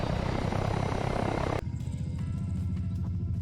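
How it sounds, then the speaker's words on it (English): Heavy helicopter rotor and engine roar, a Chinook in the Arma 3 combat game, loud and steady before abruptly dropping to a lower rumbling idle as it settles at base. "Chinook landed back at base"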